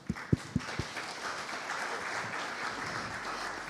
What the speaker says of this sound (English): Please join me in giving our panelists a round of applause.